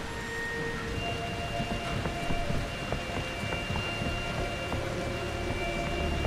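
Blood rain falls steadily in the horror video game Outlast 2 as a continuous patter spread across the whole scene, with faint low rumbles underneath and no talking.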